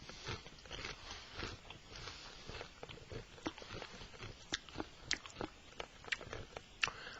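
Close crunching bites and chewing of Doritos chips dipped in hot salsa, a string of crisp cracks and crackles growing sharper toward the end, with no talking.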